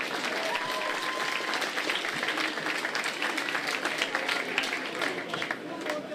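A crowd applauds the wife of an award recipient, who accepts on his behalf. The applause is thick and continuous, holds at a steady moderate level throughout, and voices murmur beneath it.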